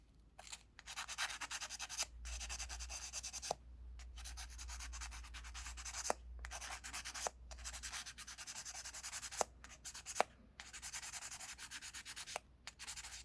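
Repeated scratchy sanding strokes rub metal pin contacts of a car brake light switch back and forth at close range, in bursts separated by short pauses, with a few sharp ticks.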